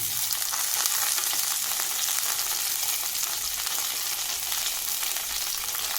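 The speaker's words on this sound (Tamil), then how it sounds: "கடுகு பொரிஞ்சதும் நம்ம இது கூட ஒரு கைப்பிடி கருவேப்பிலை ஆட் பண்ணுறோம்." Mustard seeds and curry leaves sizzle and crackle in hot oil for an upma tempering, a continuous close, hissing fry with fine popping throughout and no voices.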